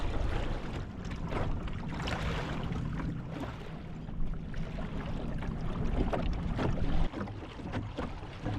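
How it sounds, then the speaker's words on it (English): A small dinghy sails slowly across open water, with steady wind buffeting the microphone over soft splashing and lapping against the hull and a few light knocks. "I'm definitely sailing slowly."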